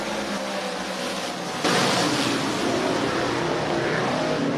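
Race cars roar off turn four at a dirt track, a broad engine rumble that swells sharply partway through as the pack passes close and stays loud and continuous.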